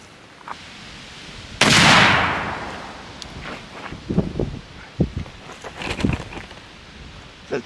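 A choked muzzleloading shotgun loaded with 7.5 shot, 90 grains of powder and three overshot cards fires once, a loud close blast with a long decaying tail, followed by scattered faint knocks and rustles.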